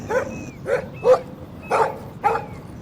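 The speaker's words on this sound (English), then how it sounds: "Stop that! Stop! No barking." A dog in the video game Life Is Strange Remastered barks five times in an uneven rhythm, each bark sharp, close and loud over a quiet background.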